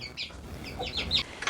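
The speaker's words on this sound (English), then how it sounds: "2 little baby chicks on the farm." Two baby chicks on an Australian farm peep in a run of short, high chirps, a few quick calls clustered close to the microphone over a quiet background, with no talking.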